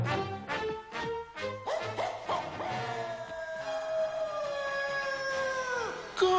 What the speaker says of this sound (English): Gosh, that's a scary bark.